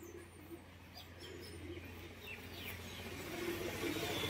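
Several pigeons of mixed breeds, Madras among them, coo softly and continuously at a pigeon sale stall, with faint chirps and steady background hum, growing slightly louder toward the end.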